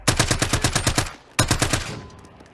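Rapid automatic gunfire in Call of Duty: Warzone, a tight burst of about nine shots followed by a second, shorter burst, loud and close with a fading tail.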